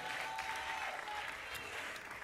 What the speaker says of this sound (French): Est-ce qu'on peut applaudir pour elle, s'il vous plaît?